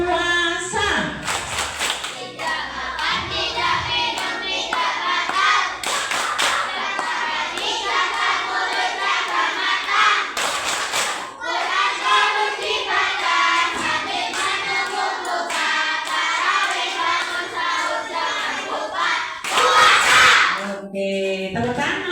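Children at an Islamic school holiday program perform a rhythmic Ramadan clapping routine, bursts of loud group clapping mixed with chanting young voices in a roomy hall, with an adult leading between rounds.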